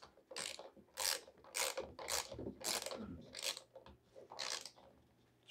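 Tightening plastic fittings on a PVC window passthrough gives a run of loud, rhythmic ratcheting clicks, about seven bursts, close up with no talking.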